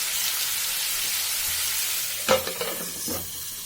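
Chopped tomatoes frying in a kadai for kadai chicken, a steady broadband sizzle with a burst of stirring and scraping clatter near the end, no voices.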